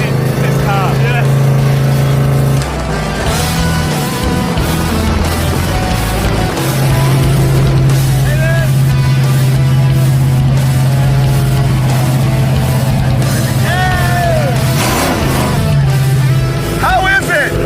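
A 1969 Ford Mustang Mach 1 junkyard revival car cruising on a highway, its loud engine drone and road rumble filling the cabin continuously while people talk over it.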